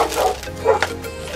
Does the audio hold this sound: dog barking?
yes